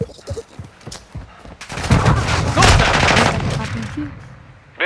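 Rapid automatic gunfire in Call of Duty Modern Warfare, starting with a few scattered shots and then a dense, loud sustained burst lasting a couple of seconds, with in-game voice chatter under it.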